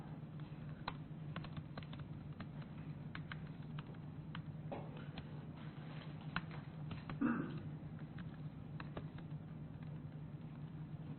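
Quick, light keystrokes tapped on a computer keyboard as a terminal command is entered, scattered clicks over a steady low hum, fairly close and fairly quiet.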